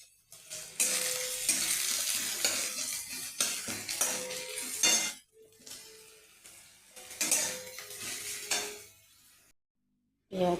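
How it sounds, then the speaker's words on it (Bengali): Onion, ginger and garlic being stir-fried in hot oil with whole spices for rajma, loud bursts of sizzling and scraping spatula strokes against the pan, pausing briefly between rounds of stirring. "পেঁয়াজ কষানো হয়ে গেছে, পেঁয়াজটা ভেজে নিয়েছি।"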